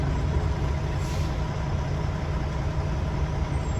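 A semi truck pulling a trailer swings through a gate on a tight turn, its engine giving a steady, close, heavy low rumble that holds without a break and with no voices.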